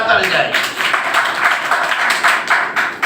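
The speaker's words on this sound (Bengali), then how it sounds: "জোরে একটা হাততালি যায়।" An audience claps loudly in a quick burst of rhythmic applause, rising and falling in several sharp waves over about three seconds, with a voice heard among the claps.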